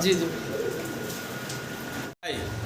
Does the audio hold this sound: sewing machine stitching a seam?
no